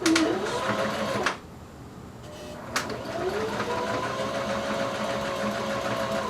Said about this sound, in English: go ahead and start sewing. Remember the back stitch.